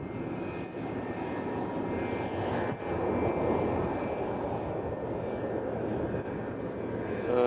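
A cargo airplane at Nashville International Airport makes a broad, steady engine roar that stays at an even level from start to finish. The sound is moderately distant and nobody speaks.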